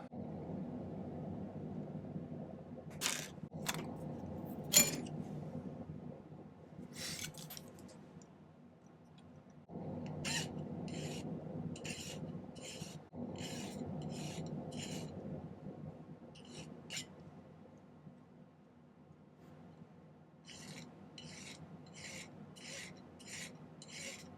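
A hand file rasping on silver sheet for a cuff bracelet, short bursts of quick scraping strokes in several rhythmic runs, close and fairly quiet over a low room hum.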